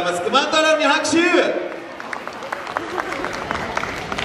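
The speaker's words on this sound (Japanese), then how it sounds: "クマン太郎に拍手。" An audience at a Kumamon musical-chairs game at a Fukuoka fan appreciation event claps for Kuman Taro. A loud voice comes first, then a spread of scattered applause follows at moderate distance.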